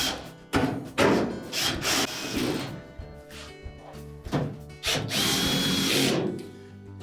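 A power drill drives mounting screws partway in, with several whirring bursts of varying length and loudness, interrupted by short pauses and some bumping, all close by.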